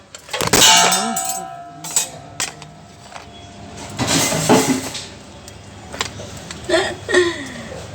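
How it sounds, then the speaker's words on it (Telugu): A phone falls onto a hard kitchen floor with a sharp metallic clang that rings briefly, followed by several smaller knocks and clatters. "సారీ అండి, నా ఫోన్ పడింది."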